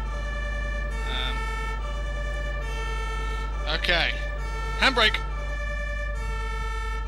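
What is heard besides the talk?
ambulance siren, from video game Emergency Ambulance Simulator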